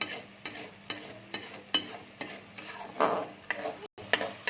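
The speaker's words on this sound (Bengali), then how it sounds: "আমি মোটামুটি একটু ভেজে নিচ্ছি।" A spice paste made with mustard fries in oil and is stirred in regular strokes, giving a rhythmic series of scraping pulses over a soft sizzle, with no talking.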